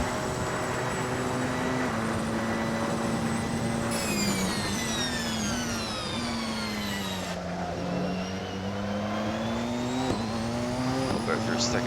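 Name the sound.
Porsche 919 race car engine in Assetto Corsa video game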